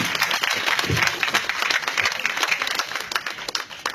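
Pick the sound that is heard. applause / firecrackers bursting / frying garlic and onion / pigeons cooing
applause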